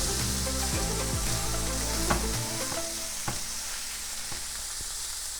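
A smash burger patty on a griddle sizzles loudly and steadily, close up, with a low rumble early on and spatula scrapes and clacks spread through.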